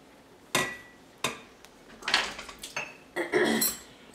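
Dishes and pots clatter as they are lifted out of a kitchen sink, with several sharp, close metallic clanks and knocks in quick irregular bursts and no talking.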